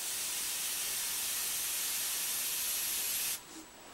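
A steady, close airbrush hiss sprays paint continuously for a few seconds, then cuts off abruptly near the end.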